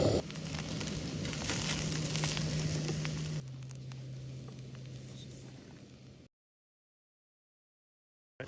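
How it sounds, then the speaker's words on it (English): Food sizzling as it heats through in a pan at a wild mountain camp by a lake in the Brecon Beacons, a steady close hiss that stops abruptly, with no talking. "I'm going to see if I can get these a bit hot in another pan, just heat them through a little bit"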